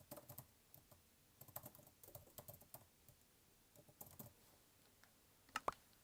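Fast, uneven typing on a computer keyboard while building in a game, with light clicky keystrokes in bursts and short pauses, close and quiet, with no voices.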